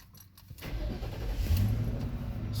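A 2006 Ford Crown Victoria P71 police package car engine cranks briefly and catches, then settles into a steady, close idle rumble that rises slightly.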